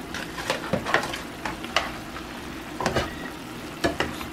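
Taco fajita filling sizzles and fries steadily in a pan, with intermittent clinks and scrapes from stirring scattered over the continuous crackle.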